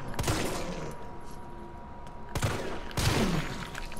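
Pistol gunshots in the video game Resident Evil 3 on the streets of Raccoon City: three sharp shots, one early and two close together near the end, over a low ambient game background.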